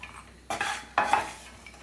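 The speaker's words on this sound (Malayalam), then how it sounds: "കൊപ്രയൊന്ന് ഫ്രൈ ആയിട്ട് വന്നിട്ടുണ്ട്" Dried coconut pieces (copra) frying in oil for a poha chivda mixture, with two distinct scraping stirs of a utensil through the pan over a low, steady sizzle, close and fairly loud, with no talk.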